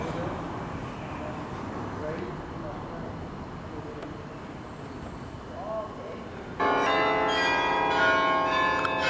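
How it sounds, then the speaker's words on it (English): Church bells in a tower chime for eight o'clock, a bright ringing that breaks in abruptly late on over a background of wind and distant traffic. "It's 8 o'clock now, and so the bells are chiming up here in this tower."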